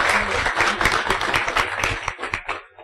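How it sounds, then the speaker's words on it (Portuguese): Audience at a functional programming meetup applauding a speaker, a short burst of brisk clapping with some voices mixed in, tapering off near the end. "Salve de palmas, Eliseu?"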